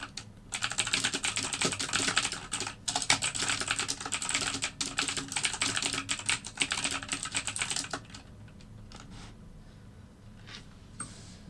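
Rapid, steady typing on a computer keyboard set up beneath a phone on a tripod at a desk, close and fairly loud for about eight seconds before stopping, leaving faint room noise with a few scattered taps.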